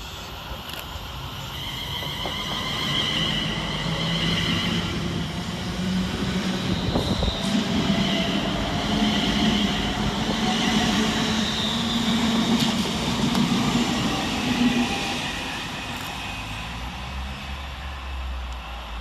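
Two Class 350 electric trains, 350.242 and 350.248, pass through Nuneaton station with a rising whine and rolling wheel noise, squealing tones drifting across before the sound fades after about fifteen seconds.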